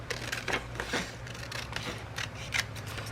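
Scissors snipping through a small piece of printed music-sheet paper, several crisp cuts in an irregular rhythm, close and clear over a faint steady background hum.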